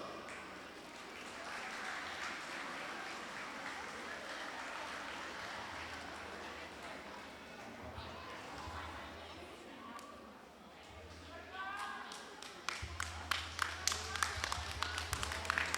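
Crowd at a canoe race festival on Yap gives applause for the finishers; murmuring and distant voices give way to a burst of sharp, scattered clapping near the end.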